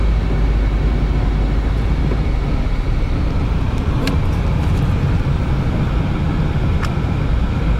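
Dense nighttime traffic jam on a Paris street, with a constant loud roar of idling and creeping cars and buses close by, a broad steady rumble with faint scattered clicks and no talk.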